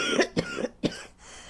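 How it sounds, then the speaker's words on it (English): Several sharp, close coughs in quick succession, three distinct bursts within about a second from someone with a lingering cough lasting weeks, followed by quiet. "I've not been able to shift this cough in weeks."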